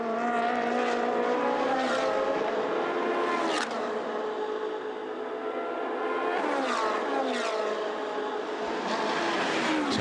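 Race cars at speed on the Sochi circuit in a 2016 Coppa Shell race scream past with high engine notes rising and falling through gear changes, several sharp revving sweeps and close passes.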